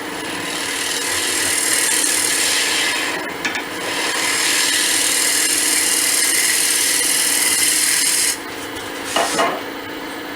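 Shear scrape with a bowl gouge on wood turning on a lathe, a continuous loud rasping hiss that dips briefly twice, with a short knocking at the end.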